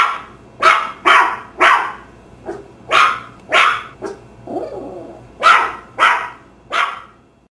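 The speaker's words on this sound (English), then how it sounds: "Puppy yelping." A puppy yelps in a rapid run of about a dozen sharp, high cries spaced roughly half a second apart, close and loud, with a low steady hum underneath.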